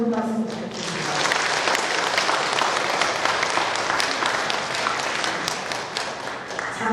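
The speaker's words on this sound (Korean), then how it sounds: "오늘 강연에서 연락을 해주신 이신철 교수님께 다시 한번 큰 박수 부탁드립니다" Audience applause for a lecturer at a March 1st commemoration in a central hall, a full, sustained round of clapping rising quickly after a brief voice, then holding steady and easing slightly near the end.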